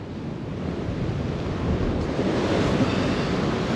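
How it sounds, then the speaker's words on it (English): Storm-driven ocean surf during Storm Nelson on the shore at Dawlish, a steady loud roar of breaking waves with gusting wind buffeting the microphone, no voices. "And in the meantime, there's waves coming in."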